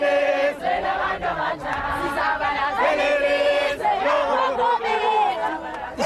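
Large crowds lining the road along the route from Mthatha Airport to Qunu for Nelson Mandela's state funeral, loud sustained singing and chanting voices in unison, lively and continuous.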